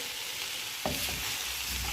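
Food sizzles steadily in a hot pan, with a brief clatter of stirring partway through.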